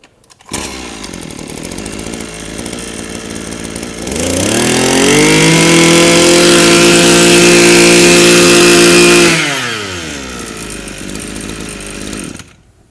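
A small two-stroke Japanese grass trimmer engine, 32 mm bore, starts and idles with a buzzy rattle, then revs up to a loud, high steady whine for several seconds before dropping back to idle.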